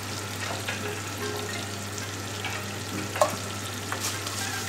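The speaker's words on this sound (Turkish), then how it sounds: "şehriyelerimizi sıvı yağla kavuralım" Vermicelli being toasted in vegetable oil, a continuous close sizzle with occasional stirring scrapes and one sharper clink partway through.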